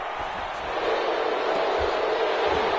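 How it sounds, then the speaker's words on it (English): Crowd in a football video game reacting to a penalty flag, a dense, steady wall of murmuring and booing that swells slightly and holds at a loud level throughout, with no clear individual voices. "This crowd does not like that call."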